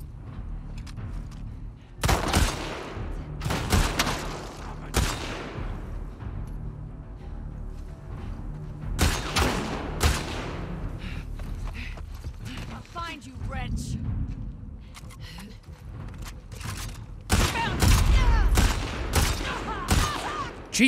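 Sniper fire and gunfire in The Last of Us Part II, with loud sharp shots landing at irregular intervals and bursts of combat noise in between, over a steady game background.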